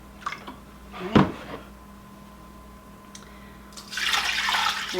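Water poured into a pot in a home kitchen while brine is made for pressure-canned brown sugar glazed carrots: a few knocks and clunks, then a steady, close rushing pour that builds over the last second.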